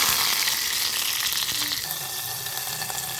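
Curry leaves crackle and sizzle in hot oil with cumin and dried red chillies for a tempering, a loud, steady frying hiss filling the whole stretch without talk.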